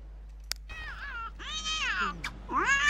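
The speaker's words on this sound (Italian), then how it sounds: "C'è il gatto che si sta già incazzando con qualcosa." An angry cat in The Sims video game lets out several drawn-out, wavering meows and yowls in quick succession, fairly clear against a quiet background.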